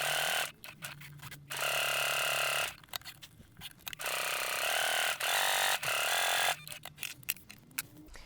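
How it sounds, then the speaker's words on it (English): A sewing machine stitches a seam on a fabric pouch bag in several close, loud bursts of rapid mechanical whirring, separated by short pauses. "I'm going to take that over to the machine, and I'm going to sew that"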